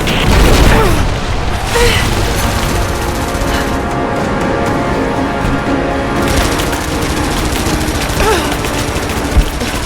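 A trebuchet launches in Rise of the Tomb Raider, producing a loud, sustained booming rumble full of crackling debris that continues steadily for the whole stretch, with a sharp pop near the end.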